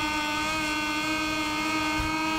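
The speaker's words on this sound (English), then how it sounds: "We can hear Marco Bezzecchi's bike right behind us" A Moto2 racing motorcycle engine in MotoGP 21 screams at steady high revs, loud, close and continuous with a strong buzzing whine throughout, no talk.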